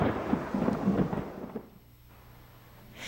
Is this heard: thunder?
yes